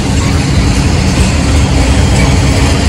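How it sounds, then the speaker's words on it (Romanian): A train pulls into a railway station, a loud, steady roar of rolling wheels and rumble filling the whole stretch without pause. "Trenul Târgu Mureș Câmpia Turzii sosește"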